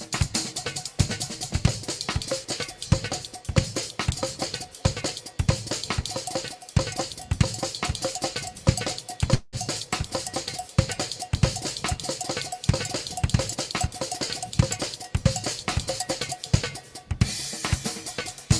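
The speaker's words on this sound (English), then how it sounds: "I'm going to chop the feet by 3s for a type of hemiola groove" A drum kit plays a dense hemiola groove, bass drum strokes chopped in groups of three against busy cymbal and cowbell-like hits, loud, close and continuous for the whole stretch with no talking.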